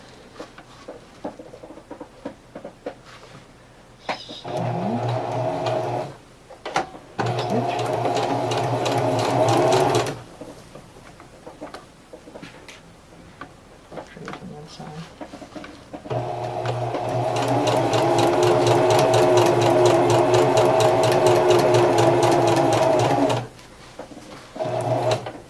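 Sewing machine stitching cross-grain ribbon onto a garment bag, several bursts of close, steady whirring separated by short pauses, with a long continuous run toward the end and quiet handling noises between.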